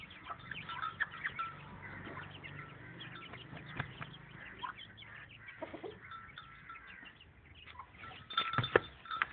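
Hens and a rooster cluck at low volume, close by, with scattered calls and a short livelier flurry near the end, no talking over them.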